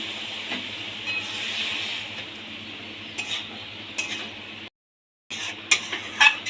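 Poppy seed paste with onion sizzling in a pan, a steady close hiss and crackle with a short silent gap, then stirring scrapes as the frying goes on.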